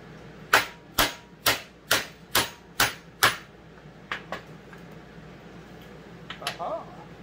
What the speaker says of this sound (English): we're going to use a little bigger hammer